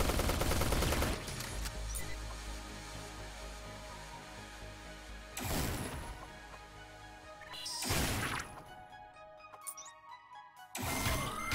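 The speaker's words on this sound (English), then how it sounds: "My laser burst." Rapid bursts of laser weapon fire in the top-down shooter Neon Chrome, loud crackling volleys in several clusters separated by brief pauses, with game effects and music beneath.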